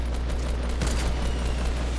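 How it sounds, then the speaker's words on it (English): Rapid video-game gunfire, a dense burst of shots over a low rumbling background, loud and continuous with one sharper hit near the middle, no talk. "Wait, they're shooting at you?"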